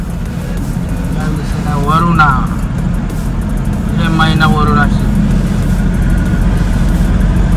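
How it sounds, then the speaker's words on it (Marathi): Busy road traffic with a steady low rumble of car and heavy engines passing under cloudy skies, someone speaking over it throughout and brief horn-like tones rising twice. "पण आहेत भरपूर गाड्या."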